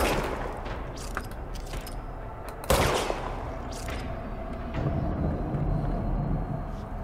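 A pistol-style Service Weapon fires in the video game Control, with a few sharp shots over a steady rumbling game ambience, one louder burst standing out near the middle.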